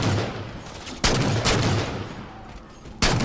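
Gunfire in the Halo 4 video game during a doubles match on the Abandon map: dense, continuous rapid shots with sharp bursts around one and three seconds, loud and close, with no voice.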